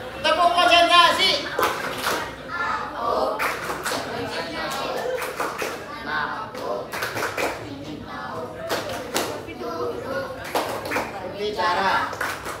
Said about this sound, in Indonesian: Iya, tepuk konsentrasi.